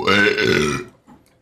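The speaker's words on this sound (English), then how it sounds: "that was an evil burp." A long, loud, rumbling burp from a streamer during a League of Legends match, heard alone, dropping off sharply toward the end.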